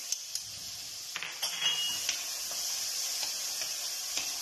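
A bay leaf and minced garlic frying in hot fat give a steady, bright hiss, with occasional faint clinks of a utensil against the pan.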